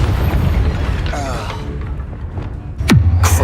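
Confringo fire spell in Hogwarts Legacy going off as a loud booming blast, followed by a sharp sweeping downward whoosh into a heavy low rumble, with a voice calling out over the start.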